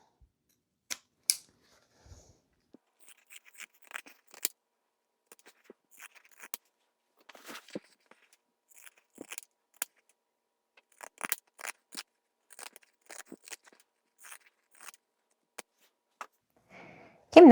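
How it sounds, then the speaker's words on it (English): Scissors snip repeatedly through fabric, trimming about half of a sewn seam allowance and a corner on a cubic makeup and travel bag, giving quiet, scattered clicks and short cuts with gaps between them and no talk. "So we're going to trim down this side about half of the seam allowance"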